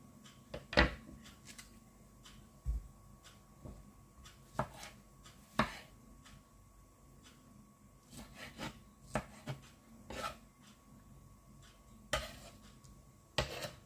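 A knife chops half a peach into tiny pieces on a board for a breakfast porridge topping, producing sparse, irregular sharp taps spaced a second or more apart in a quiet kitchen.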